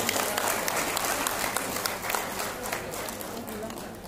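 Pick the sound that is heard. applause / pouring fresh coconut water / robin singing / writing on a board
applause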